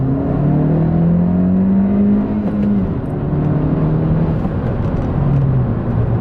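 A Honda Civic Si FK8 accelerates in second gear from around 3,500 rpm, its engine note climbing steadily and loudly through the rev range, then dipping as the revs settle before rising again, with road noise underneath.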